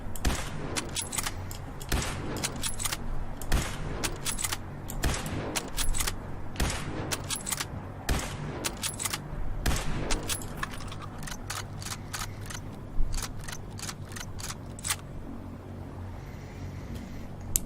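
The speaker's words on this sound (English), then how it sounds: "Let's give him a 10-gun salute." Gun salute in the video game Fallout 4, a long volley of sharp gunshots fired in rapid irregular bursts with clanking mechanical sounds between them, loud and close, thinning out toward the end.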